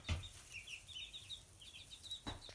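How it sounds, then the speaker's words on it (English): Chickens being settled into a coop at an off-grid homestead cluck softly with repeated short chirping calls, fairly close and faint, over a low background hum, with no voices. "We've finally got the chickens into the coop"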